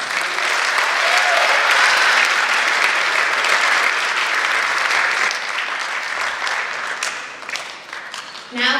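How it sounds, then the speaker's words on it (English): Another round of audience applause for an honored organization at an awards and tribute event, a loud sustained crowd clapping that thins slightly toward the end before a brief sharper burst. "Give them one more round of applause."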